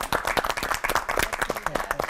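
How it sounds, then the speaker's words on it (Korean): A church or lecture audience claps for three pastors after a sermon session, with dense, close, rhythmic hand claps that stay lively and steady for about two seconds. "세 분의 목사님께 뜨거운 박수 부탁드립니다."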